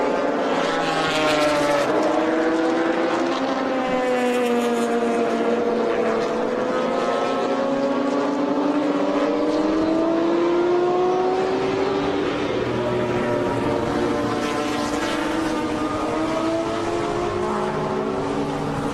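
A BMW M1 Procar race car's engine roars past in tight-pack vintage racing, a loud continuous high-revving howl with pitch sweeping up and down as it passes and other cars follow close behind.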